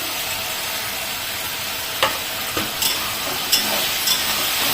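Mushrooms and spring onion greens for mushroom chilli sizzle loudly in a hot pan, a steady bright frying hiss with occasional spatula scrapes and clinks as the mixture is stirred.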